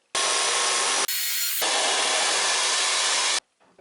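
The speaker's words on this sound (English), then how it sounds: "I'll go back through that with the 6mm drill bit." A loud, close power drill with a 6mm bit whines as it bores into a wall, with one brief change in pitch partway through before stopping abruptly.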